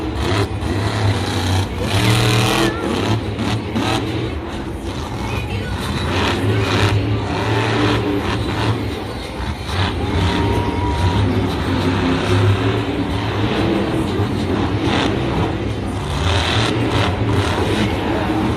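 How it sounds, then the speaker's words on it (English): Scarlet Bandit, a monster truck at a Monster Jam show in a Denver stadium, roars with a loud, sustained engine drone that surges and revs continuously across the whole run. "You gotta love the sound of this truck."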